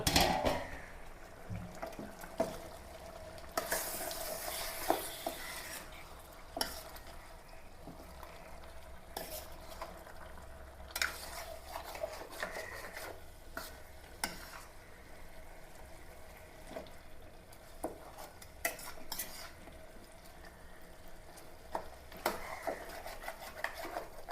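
Chicken fries in a pan while a utensil stirs and scrapes it, soft sizzling underneath with intermittent clinks and scraping bursts, fairly quiet and close, no talking.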